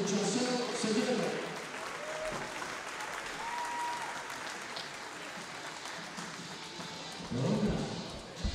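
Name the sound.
crowd applause at basketball game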